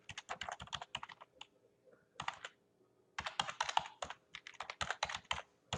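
Close, quiet typing on a computer keyboard, with bursts of rapid keystrokes broken by short pauses and a few isolated taps.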